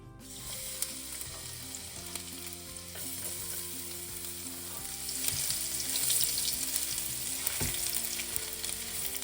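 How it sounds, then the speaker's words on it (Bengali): Chopped ginger and garlic fry in a little oil, giving a continuous soft sizzle with occasional stirring scrapes that grows slightly livelier toward the end, close by with no talk. "অল্প তেল নিয়ে এবারে আমি এতে এক এক করে ওই যা যেগুলো কেটে রেখেছি জিঞ্জার গার্লিক সব দিয়ে দেবো"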